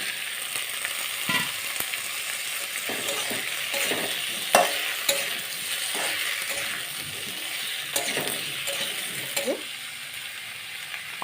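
Capsicum and potato fry and sizzle in a pan for a catfish curry while a spoon stirs them, with a steady hiss and repeated scraping clinks throughout, no talk.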